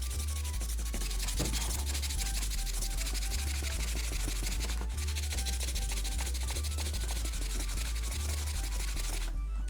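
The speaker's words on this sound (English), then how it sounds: "You're actually sanding off that layer." An old videogame cartridge is sanded by hand with steady back-and-forth rubbing strokes, close and continuous for about ten seconds, gritty and scratchy throughout with no talking.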